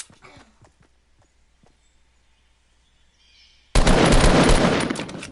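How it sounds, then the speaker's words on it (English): Gunfire in the Fortnite video game: a few faint sharp cracks early on, then a sudden loud, dense burst of shots lasting over a second near the end. "As you can see, I did double headshots."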